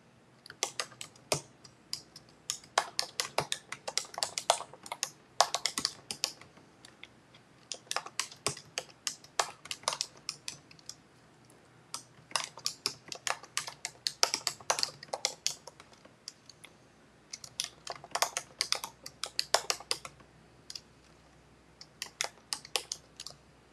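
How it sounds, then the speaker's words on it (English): Typing on a computer keyboard, bursts of rapid close clicking keystrokes separated by short pauses, quiet and alone in a still room. "I am just quickly typing a message to let you know that the software disconnected me"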